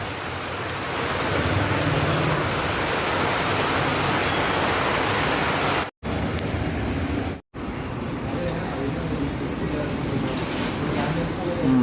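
Heavy rain pours steadily as a dense, even broadband hiss, with two brief dropouts partway through and no break in intensity otherwise.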